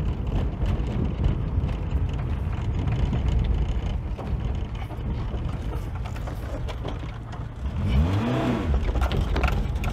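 A VAZ 2107 car pulling away with a touchy throttle, the engine rumbling close by under rough wind buffeting, then a sharp rev that rises and falls near the end.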